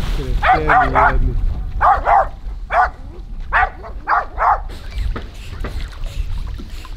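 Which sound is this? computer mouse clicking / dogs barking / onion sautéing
dogs barking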